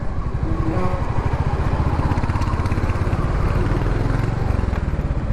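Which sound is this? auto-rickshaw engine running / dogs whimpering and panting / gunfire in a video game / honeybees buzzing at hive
auto-rickshaw engine running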